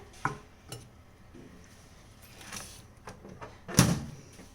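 Light knocks and clinks of a chocolate cake batter dish being handled, then a sharper thunk as it is set inside a preheated microwave oven on convection mode and the door shuts.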